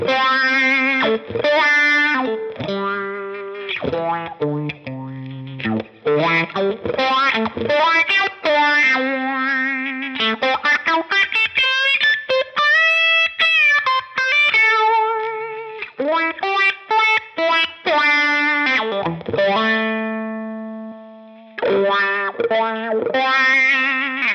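An electric guitar played through a wah pedal on a Line 6 Helix, with the direct signal blended in, sounds a run of sustained, sweeping notes and chords whose tone opens and closes, loud and alone.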